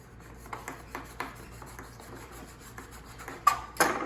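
Sharp knife cutting the end of a Dyneema sailing lifeline, a series of short rhythmic rasping strokes, close and dry, ending with two louder snips or scrapes.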